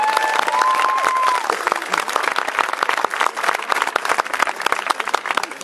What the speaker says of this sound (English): Let's give our county commissioners a round of applause.